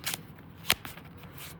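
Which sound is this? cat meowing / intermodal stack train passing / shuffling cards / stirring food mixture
shuffling cards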